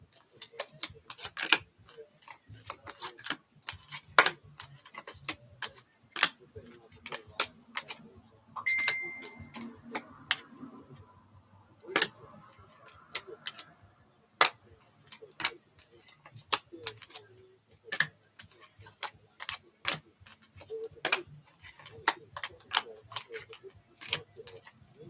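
Thick tarot cards are shuffled in a run of crisp, irregular clicks and snaps that continue steadily throughout, with quiet talking faintly underneath.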